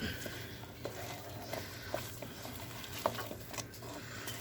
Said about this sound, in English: Good, mix it all up.